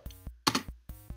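A few separate keystrokes on a computer keyboard as a terminal command is typed, close crisp clicks with short gaps between them, no voices.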